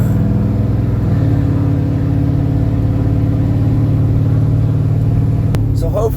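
A car accelerates through a red light on a snowy Northeast Philadelphia street, its engine rumbling and revving loudly and steadily close by, with a brief sharp click near the end.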